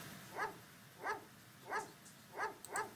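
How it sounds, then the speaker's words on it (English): A dog in the horror video game Phantasmagoria barks in a steady series of five sharp yelps, evenly spaced and moderately loud over a quiet background. "The way it barks is like those commercials where they try, where they put the dogs together to sing a song"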